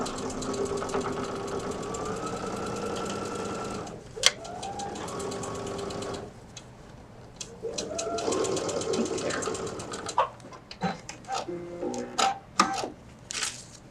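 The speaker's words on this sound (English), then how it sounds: "I can come back over here and top stitch" Sewing machine top stitching a zipper pouch, a close rapid mechanical whirr running in bursts with pauses and a few clicks and knocks as the fabric is repositioned, no talking.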